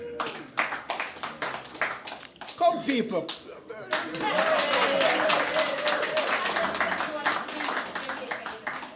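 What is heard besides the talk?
town hall audience applauding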